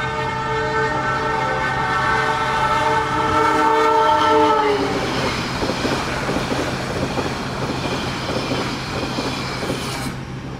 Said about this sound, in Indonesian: kereta api Malabar sudah melintas langsung di stasiun Walikukun